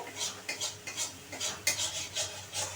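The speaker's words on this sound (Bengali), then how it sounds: "এবারে ভালোভাবে আমি মিশিয়ে নেব, খুব ভালো করে।" Spices and salt being stirred and mixed in a pan while cooking potol posto, rhythmic scraping and rubbing strokes of a utensil against metal, soft and close, repeating roughly every half second without speech.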